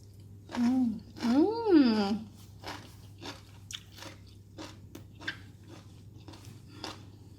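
Close, crisp crunching and chewing of Thai green bean salad with somtam sauce repeats steadily after a couple of short vocal sounds, with a low steady hum underneath.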